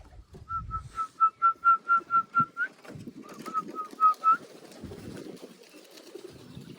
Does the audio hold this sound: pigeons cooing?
yes